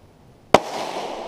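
A Tikka T1X bolt-action rifle in .17 HMR fires a single sharp, loud report outdoors, with a brief rolling tail of echo fading behind it.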